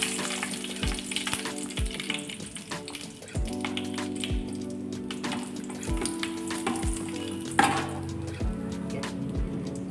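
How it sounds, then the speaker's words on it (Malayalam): Mustard seeds, urad dal and dried red chillies fry in hot oil for rasam, a close sizzle and crackle with sharp popping seeds and occasional knocks of a spoon against the pan. "എണ്ണ ചൂടായ ഉടൻ കുറച്ച് കടുക് ഇട്ട് കൊടുക്കുക. ശകലം ഉഴുന്ന് പരിപ്പ് ഇട്ട് കൊടുക്കുക."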